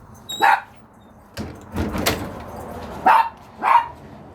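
Several pet dogs barking at home, with three sharp, loud barks spread apart and some thumps and rustling in between.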